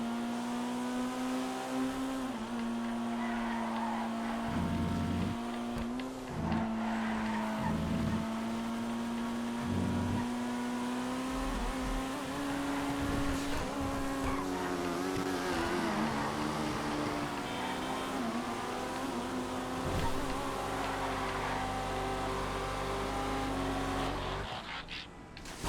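Race cars lap a track in a GTA FiveM race, one engine droning steadily up close with a sustained tone that rises and dips slightly as it revs, running unbroken the whole time.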